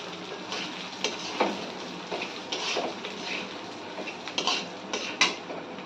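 Soaked rice being mixed in a bowl by hand or spoon, producing a soft continuous grainy rustle with light clicks of the bowl at irregular intervals, close by.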